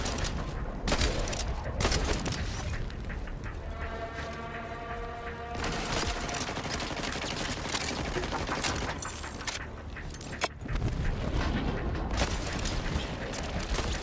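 Turret gunfire in the video game Borderlands 4, dense rapid bursts of shots and booms that go on almost nonstop, loud and mixed with whirring mechanical game effects.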